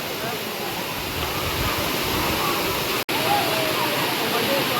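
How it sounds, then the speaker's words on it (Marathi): A waterfall in the Konkan region roars in a constant broadband wash, heard from nearby with wind buffeting the microphone, and the sound cuts out for an instant partway through. "सुंदर असो भारी धबधबो आपल्या पडताना दिसतं"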